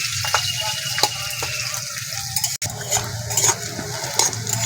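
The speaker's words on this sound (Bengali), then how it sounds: "পেঁয়াজটা ভালো করে ভেজে নেব" Chopped onions fry in oil in a pan while being stirred, a continuous close sizzle broken by repeated spoon clinks and scrapes against the metal, with one brief dropout midway and no talk.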